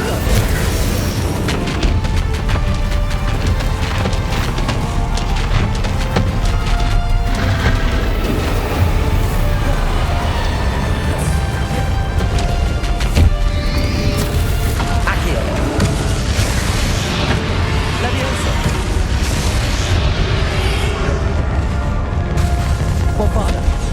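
Bombarda and Confringo spell blasts in the wizarding game Hogwarts Legacy go off as a dense, continuous barrage of loud booms and crashes, layered with battle effects and shouted spell incantations throughout.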